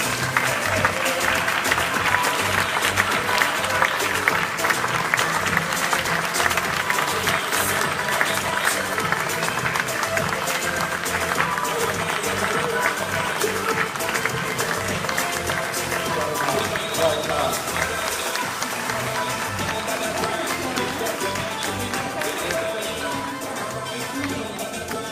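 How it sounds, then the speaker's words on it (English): Audience applause at a radio-hosted children's awards ceremony on the Isle of Wight, continuous clapping from a large crowd lasting well over twenty seconds, loud and steady with some background voices mixed in. "Give her a big round of applause."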